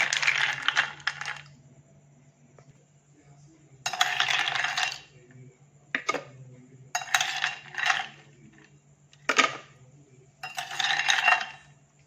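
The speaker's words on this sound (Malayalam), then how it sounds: "ഇനി നമുക്ക് ഈ ഐസ് ക്യൂബും ഇട്ടെന്ന് അടിച്ചെടുക്കാം കേട്ടോ" A kitchen blender crushes ice cubes for mango juice in six short, loud grinding pulses separated by pauses, with a low hum underneath.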